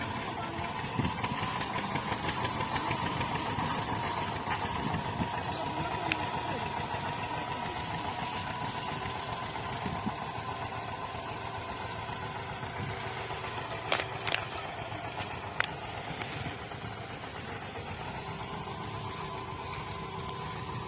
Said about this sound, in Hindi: वहाँ सामने और 2-3 ट्रैक्टर चल रहा है सामने।